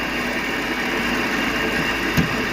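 A Vevor 600 mini lathe cuts metal at about 1,000 RPM, giving a steady, close motor drone and whirring hiss with one brief thump near the end.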